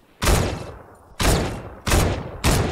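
Gunfire in Fortnite, four loud, close shots that burst out at irregular intervals of about half a second to a second, each with a sharp attack and a short decaying tail.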